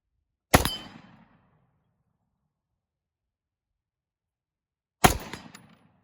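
Two single shots from an FN FS2000 rifle ring out about four and a half seconds apart, each a sharp, loud crack followed by a brief decaying echo, with silence between and no talking.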